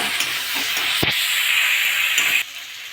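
Pointed gourd pieces sizzle and hiss in hot oil with fried spice paste, a steady close frying sound that softens near the end, with a few stirring knocks.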